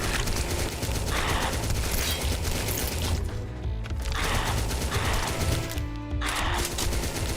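Sustained SMG fire in a PC indie game, dense rapid bursts of automatic shots repeating in loud waves with short breaks between them, close and continuous.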